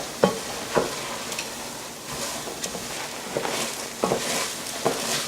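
A spoon stirs mushroom risotto in a pan over medium-high heat, with soft scraping strokes and occasional sharper knocks against the pan under a constant gentle sizzle.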